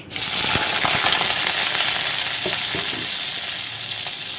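Small onions, cut in halves, dropped into hot oil already popping with mustard seeds and lentils, raising a loud, steady sizzle with scattered crackles and stirring clicks, no voices.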